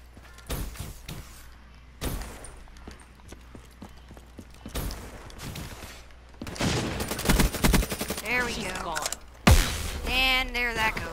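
Gunfire in a shooter video game comes in scattered shots and then dense, loud bursts. A voice talks excitedly over the later volleys.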